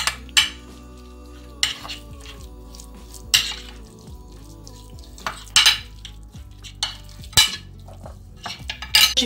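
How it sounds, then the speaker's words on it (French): Chermoula marinade with olive oil stirred in a bowl, spaced bursts of scraping and clinking spoon strokes over a low steady background hum, close and fairly loud. "Alors là, j'ajoute une bonne dose d'huile d'olive. À ce moment-là, je mélange bien."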